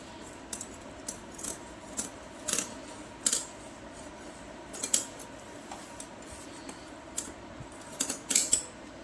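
Scissors cut the mouth off a woven onion sack in a series of sharp, close snips and crisp crunches, spaced irregularly and mostly clustered, set against a quiet background with no talking.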